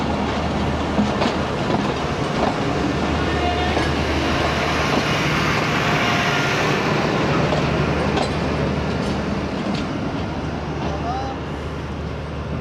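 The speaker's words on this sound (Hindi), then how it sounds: "पहुंच गई है फरीद एक्सप्रेस 38 डाउन कसूर जंक्शन" The Fareed Express 38 Down pulls into Kasur Junction in rural Punjab, a dense steady rumble of rolling coaches and wheel clatter, loud and close throughout.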